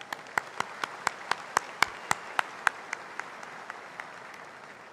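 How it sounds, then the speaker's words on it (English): Sparse, evenly spaced handclaps ring out at a university graduation ceremony for the performers, faint and distant, like a thin round of applause fading away. "Another round of applause for our performers."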